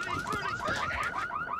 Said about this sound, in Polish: alarm jest